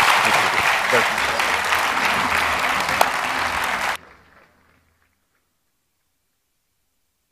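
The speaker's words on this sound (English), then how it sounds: "A round of applause, please." Steady applause from a conference audience after an agriculture panel, dense and even for about four seconds before cutting off abruptly into silence.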